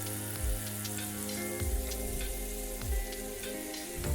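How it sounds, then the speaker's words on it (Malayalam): Mushrooms hit a pan of heated butter and oil and fry with a steady, close sizzle and crackle. A few soft low knocks come from the pan, and no one speaks. "ബട്ടറും ഓയിലും ചേർത്ത് അതൊന്ന് ചൂടായ ശേഷം ഇതിലേക്ക് മഷ്റൂം ചേർത്ത് കൊടുക്കാം."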